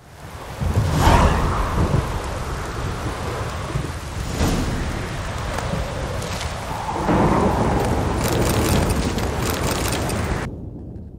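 A thunderstorm in The Witcher 3 game, with heavy rain hissing steadily, a loud thunder crack and rumble early on and another long roll of thunder midway, then a sudden cut to silence near the end.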